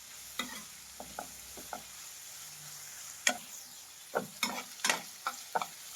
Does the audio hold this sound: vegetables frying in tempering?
yes